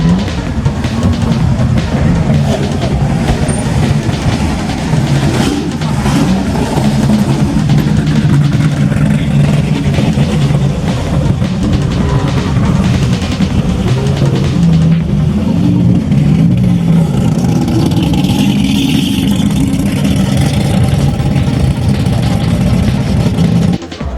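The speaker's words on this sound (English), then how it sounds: "Imagine we are among the lively parade of racing cars and the symphony of engine roars" Supercar engines roar continuously at a crowded Las Vegas auto show, a loud dense rumble of revving and idling motors with background crowd noise throughout.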